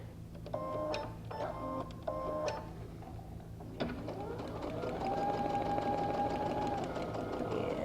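Sewing machine stitching through a paper foundation: a few short whirring bursts of stitching, a clunk, then a longer steady run of rapid mechanical stitching, close and moderately quiet.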